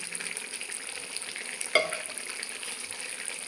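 Half a spoon of ghee sizzles softly and continuously in a papaya-potato curry as it is stirred in, with a single light clink of a utensil midway.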